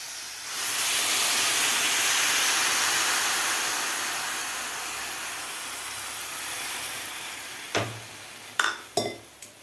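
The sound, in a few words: water being poured into pot of rice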